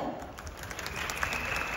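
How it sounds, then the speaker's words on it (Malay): Applause at an Elken winners night gala, a brief, moderately quiet, even patter of many hands clapping throughout, with faint voices mixed in. "Berikan tepukan kepada Elken."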